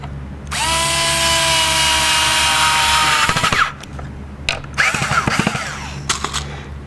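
A power drill drives screws into wood for a rustic wooden scrapbook binder, giving a loud, sustained whirring burst followed by shorter stuttering runs and clicks up close.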